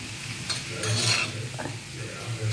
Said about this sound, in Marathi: हे बघा, आता मी हलवून ठेवलं आहे, खालून वरून व्यवस्थित करून घेतलेलं आहे